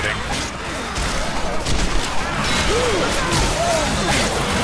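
Gunfire in Left 4 Dead 2 during co-op play: dense, continuous bursts of shots and impacts mixed with game noise, with players talking over the action throughout.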